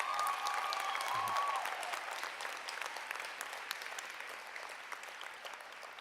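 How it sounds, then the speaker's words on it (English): A convention closing-ceremony crowd applauds steadily, dense clapping that gradually thins and softens, with a faint voice briefly audible early on. "you can give them a round of applause"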